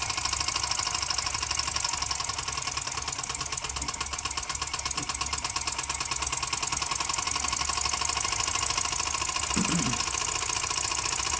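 Jensen #85 toy steam engine driving four small generators, a steady mechanical running hum with rapid rhythmic chugging and faint rattling vibration throughout, fairly loud and continuous with no talking.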